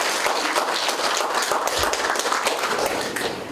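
An audience at a local community forum applauds a professor, a dense, sustained round of clapping from many hands that fades slightly toward the end.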